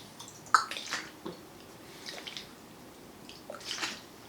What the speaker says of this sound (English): Water comes out. I don't even really have to squeeze it.